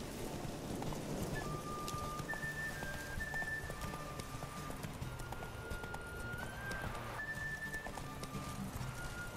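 A horse trots along in The Witcher 3 video game, its steady hoofbeats clip-clopping close and continuous under faint held musical tones.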